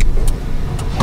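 A jammed rear door on a second-year Lada Granta, its lock faulty, is forced open with a few short, sharp clicks and clunks over a steady low rumble.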